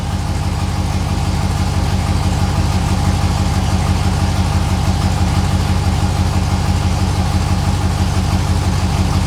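A 6.0L LS V8 swapped into an S10 pickup idles steadily, a loud, even low rumble with a constant pulsing rhythm and no talk over it.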